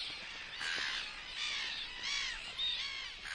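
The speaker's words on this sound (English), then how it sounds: "Here in Argentina, brown-hooded gulls are nesting." Brown-hooded gulls call at a nesting colony in Argentina, giving harsh, drawn-out cries repeated four or five times over a steady backdrop of distant colony noise, fairly near and with no talking.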